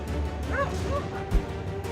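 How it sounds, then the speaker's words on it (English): A dog gives a couple of short, high yelping barks at a monitor lizard near water, fairly faint and brief over a low background rumble. "the dog approached and barked toward the opponent"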